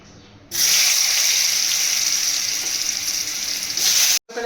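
Potatoes fry in mustard oil in a wok with a loud, continuous, hissing sizzle that starts abruptly and holds steady for several seconds before cutting out briefly.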